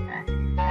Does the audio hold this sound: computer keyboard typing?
no